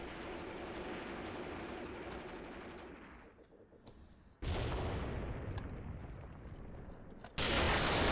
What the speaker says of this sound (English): that's artillery coming in nicely